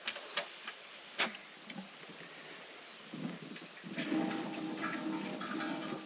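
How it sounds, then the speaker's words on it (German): Water gurgles and sloshes inside the water tank of an offroad camper van, a soft irregular trickling that grows steadier and fuller toward the end, with a few sharp knocks early on. "Man hört es gluckern."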